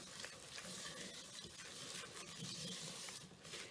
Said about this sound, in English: And give it a good stir.